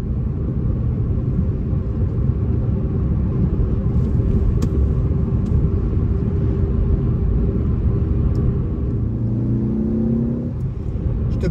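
A 2015 Ford Focus ST 250 being driven, its engine producing a loud, constant low rumble with a faint rising tone near the end as it revs, heard from inside the car with no talking.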